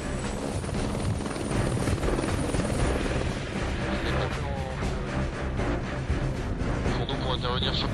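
A helicopter from Villacoublay air base near Paris produces a loud, steady rotor and engine roar that fills the whole stretch, with faint voices mixed beneath it.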